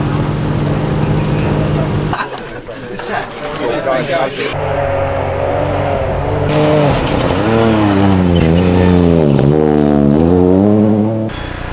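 Race car driving at a Walters Arena corporate day, engine revving up and down through gear changes with rising and falling pitch sweeps, loud and close, with a voice talking over it.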